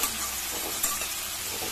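Tomatoes frying with softened onions in a pan for an egg masala fry, a steady faint sizzle with a few soft stirring clicks.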